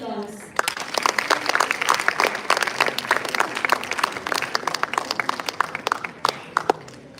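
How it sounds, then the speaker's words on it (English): An audience applauds the victorious teams at the Zenith 2023 event, a sustained burst of many hands clapping that begins about half a second in and stays dense and lively, with voices mixed into the crowd. "let's join together to give the victorious teams a round of applause."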